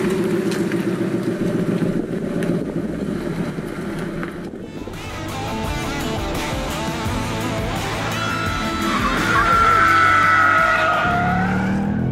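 A BMW M2 Competition or Ford Mustang Bullitt sports car slides on track: loud engine roar revving and shifting, then a rising, sustained tire squeal as the car slides, close and intense, with no speech.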